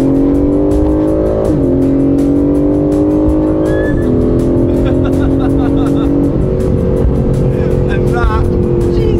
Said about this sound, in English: we'll just demonstrate how quickly it overtakes a slower car in front